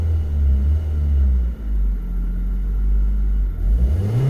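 A car engine revs steadily with a deep, loud rumble, dipping briefly once before climbing again toward the end. No talking.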